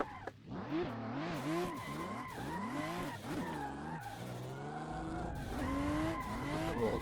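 A car in the Assetto Corsa racing game drifts on a mountain road, its tires squealing in long, wavering skids over a steady, revving engine note, loud and close throughout.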